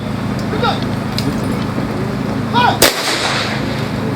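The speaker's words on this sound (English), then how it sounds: "the departed officers were honored with a 21-gun salute, a custom of the armed forces of Nigeria" Volley from a 21-gun salute at a Nigerian armed forces military funeral in Abuja, one sharp loud report cracking over steady outdoor rumble and traffic-like background noise.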